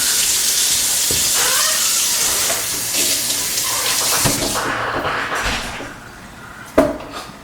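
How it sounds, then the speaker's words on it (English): Tap water runs steadily over potatoes being rinsed in a sink, a loud continuous splash that tapers off toward the end, with a few knocks and one sharp clunk near the close. "I'm going to give my potatoes a rinse."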